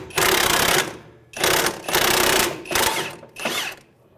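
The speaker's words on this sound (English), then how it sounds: "we're actually going to switch over to an impact" An impact wrench with a 24mm socket hammers at a tie rod nut on a 2015-2019 Hyundai Sonata, firing in four loud, close rattling bursts separated by short pauses, with no talking.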